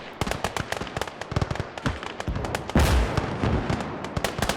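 An artillery gun fires during a WWI Isonzo battle between Italian Alpini and Hungarians in a video game, with a dense crackle of rapid gunfire and a heavier blast partway through.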